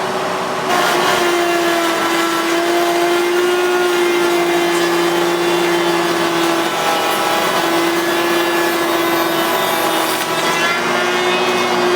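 A router bit cuts a dado into wood while building a mobile sanding center, a loud, steady high-pitched whine with a shift in tone partway through as the cut changes.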